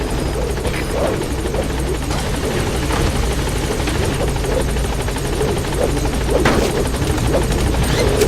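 Support helicopter in Metal Gear Solid V arriving at a landing zone, a loud steady rotor drone with heavy low-end thrum filling the whole stretch, faint crackles on top.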